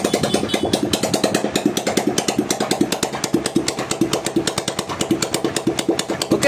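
A fully rebuilt motorcycle engine running nearby, a loud steady rhythmic thumping idle with evenly spaced beats throughout.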